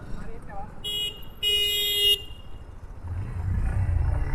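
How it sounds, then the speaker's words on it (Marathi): Two short car horn honks close by on a narrow lane at night, the second slightly longer, followed by engine rumble as the car moves. "मला हॉर्न मारून काय फायदा आहे म्हणा"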